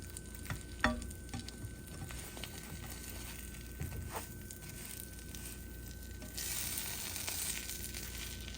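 Grilled cheese sandwich frying in a buttered pan, a soft steady sizzle with occasional clicks and scrapes of a utensil, growing slightly brighter and hissier toward the end.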